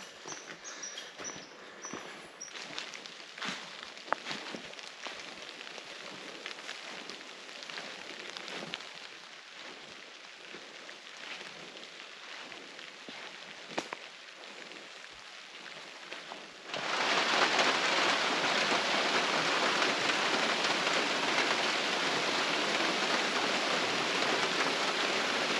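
Rain falling in the woods during a moose hunt, a steady patter of drops on leaves and the ground that grows noticeably louder and denser partway through, with no voices heard.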